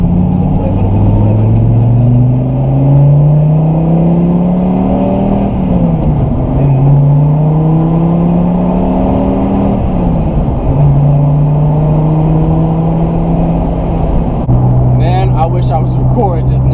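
A Dodge Viper SRT-10's V10 roars close and loud as it accelerates hard through several gears, the pitch climbing and dropping at each shift, with a voice speaking over the engine.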